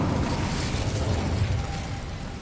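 Incendio fire spell cast in the Hogwarts video game, a steady low roaring whoosh of flame with crackling bursts that holds loud for about two seconds and eases slightly at the end.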